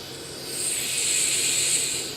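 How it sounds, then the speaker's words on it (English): A soft, steady whirring hiss swells slightly and holds from a free-spinning, non-returning yo-yo on precision ball bearings in space, up close. "that's the sound of precision ball bearings"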